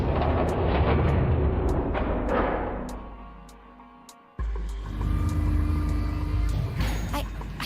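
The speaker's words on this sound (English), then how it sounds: "they heard the grinding of the motor as the elevator car moved" A heavy mechanical rumble and grinding as an elevator car descends in the video game Zero Escape: Nine Hours, Nine Persons, loud and continuous, fading then resuming abruptly with a sharp clank.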